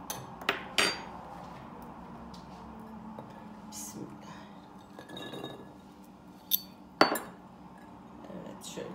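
Chickpeas and cucumbers dropped into a glass jar for crunchy pickles, giving a few sharp clinks and knocks against the glass over low kitchen background.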